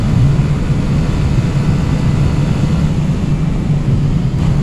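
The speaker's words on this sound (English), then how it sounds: "Okay, maxed out now on the throttle." A Honda PCX 125 scooter held at full throttle gives a steady, loud, droning engine tone, constant without a break.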